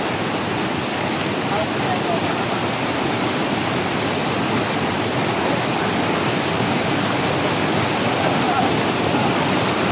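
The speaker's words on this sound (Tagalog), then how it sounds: "Sobrang lakas ng tubig at rumaragasa na." Floodwater surges with a dense, unbroken roar during a typhoon in Mindoro, loud and close, steady from start to finish with no voices over it.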